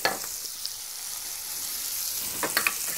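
Scallops frying in a pan, a steady close sizzle with faint crackle and a couple of light clinks near the end.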